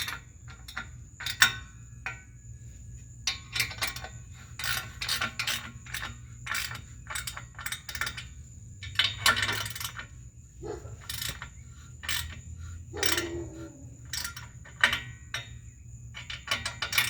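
A ratchet tightens the exhaust pipe nuts on a Ford Focus, with close, crisp clicking in quick irregular bursts separated by short pauses, against a quiet low hum.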